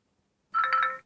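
A Ticwatch Pro smartwatch plays a short electronic ringtone through its small built-in speaker: a bright, tinny chime that rises from silence, lasts about half a second, and then stops.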